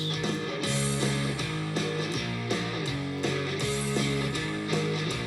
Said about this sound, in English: So the first chorus with the Les Paul sounds like this.